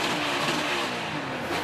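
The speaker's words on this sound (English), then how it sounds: "That sound is Ryan Blaney's car jumping out of fourth gear as he battled teammate Joey Logano." Ryan Blaney's Mustang race car at the 2020 Quaker State 400 roars past, its engine note surging and wavering as the car jumps out of fourth gear, a loud, continuous racing drone.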